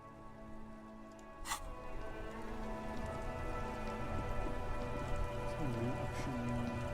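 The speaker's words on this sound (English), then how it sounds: "Stuck in the rain in a traffic jam, man." Rain falls steadily in the video game Disco Elysium, a soft constant patter at moderate level with a low engine-like hum and musical tones beneath, and a voice-like murmur appears near the end.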